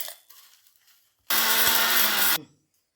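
Electric mixer grinder running one short burst with salt, roasted asafoetida and dried red chillies, a loud harsh whirring roar for about a second that cuts off abruptly, heard alone after a few faint rattles.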